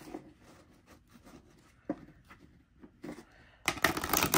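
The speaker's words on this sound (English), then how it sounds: "Oh yeah, that's a beautiful shuffle." Star Maiden tarot cards with gilded edges being shuffled by hand, quiet soft riffles and card slides in separate short bursts, close and low in level, ending in a louder, denser riffle.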